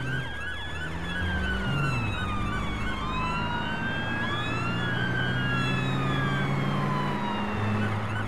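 Police sirens wail and sweep continuously in the driving game APB Reloaded, several overlapping sirens rising and falling steadily against a loud engine drone.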